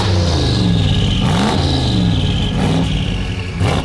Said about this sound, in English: Give her one little rap, just a little one. Sounds perfect.